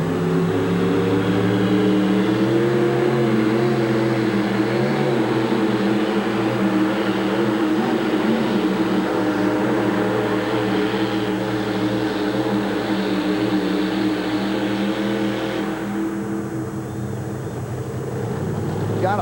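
Monster truck engine roaring loud and continuous during a truck pulling run at the Houston Astrodome in 1987, a heavy droning rumble that eases near the end, with an announcer talking over it.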